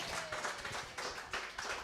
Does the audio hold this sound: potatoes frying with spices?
no